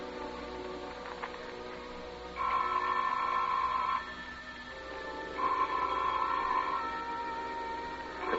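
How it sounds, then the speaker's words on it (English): Telephone bell ringing in two long bursts with a pause between, muffled and distant-sounding over a low steady background hum. "The telephone sounded like it was ringing miles away"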